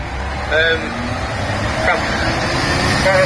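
A British-made military tank carrier truck drives around a steam rally ground, its engine rumbling at moderate distance while people talk over it and crowd noise fills the background.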